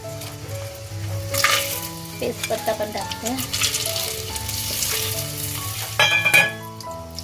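Whole spices crackle and sizzle in hot oil for a shrimp biryani, with stirring and a few utensil clinks, while background music plays.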